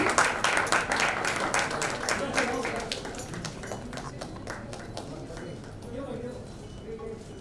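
Audience applause at a Marathi film trailer and music launch event, a dense clapping crowd that is loudest at the start and gradually thins to a softer, steady patter.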